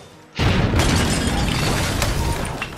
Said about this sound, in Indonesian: Ledakan demi ledakan terus terdengar menandakan semakin sengitnya pertempuran